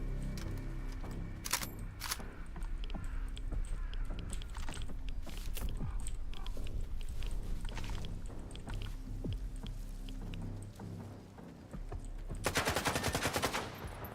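Gunfire in STALKER 2: a long stretch of sharp shots and booming reports over a steady rumble, building to a rapid, loud automatic burst near the end.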